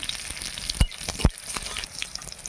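Green chillies and a cumin five-spice tempering sizzle in hot oil for a Bengali fish curry, a steady hiss with two sharp low pops near the start, heard alone.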